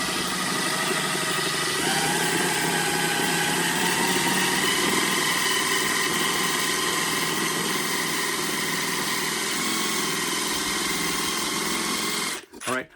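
A Dremel rotary tool, turned down in speed, cuts sideways with its bit while building cigar box guitars. It gives a close, continuous buzzing drone that wavers slightly in pitch, then stops sharply near the end.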